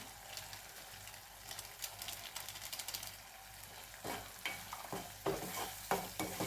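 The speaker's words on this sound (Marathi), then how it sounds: "हे आता चांगलं परतून घ्यायचंय" Masala sautéed in oil in a pan for a brinjal dish, frying steadily with repeated spoon scrapes and stirring clatter that grow louder toward the end, with no voices.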